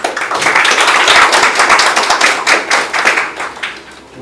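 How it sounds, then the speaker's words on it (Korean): Audience applause at a Seoul National University policy forum on real estate finance and housing policy, welcoming a government official: a dense, continuous wash of many hands clapping that swells, holds, then thins out near the end, with no voices. "큰 박수 부탁드립니다"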